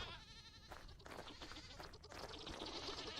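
Goats bleat in the survival game Vintage Story, several wavering calls overlapping at close range against quiet background sound, no talking.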